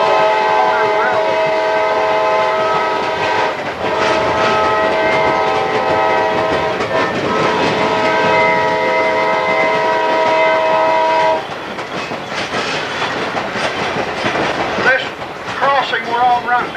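A passenger train rolls along a railroad near Van Buren, Arkansas, with a loud rumble, rhythmic clatter and long horn blasts that fade into rolling noise, while people talk over it.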